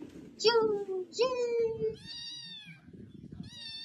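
Cat meowing twice in close, drawn-out rising calls, followed by a higher, thinner meow, with a voice and chatter underneath.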